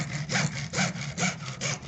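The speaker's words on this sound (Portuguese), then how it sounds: "ó, agora tá serrando o outro." Four rhythmic hand-saw strokes rasp through PVC pipe clamped in a vise, each back-and-forth pass even and close, with no talking.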